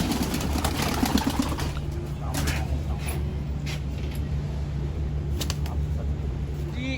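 Pigeons of old Indian breeds cooing in a breeding loft, soft low coos repeating over a busy, constant background of birds, with occasional sharper calls and a flutter of wings.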